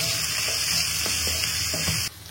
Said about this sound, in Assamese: পিঁয়াজ খিনি যে ভাজি গ'ল